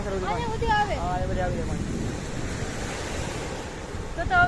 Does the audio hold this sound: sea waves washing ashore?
yes